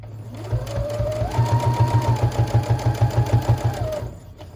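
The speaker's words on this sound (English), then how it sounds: "I try not to go super fast because I don't want to sew all the way past" Sewing machine stitching a pocket onto a tote bag, starting up and running at a moderate, steady pace with a rapid rhythmic needle chatter for several seconds before slowing to a stop.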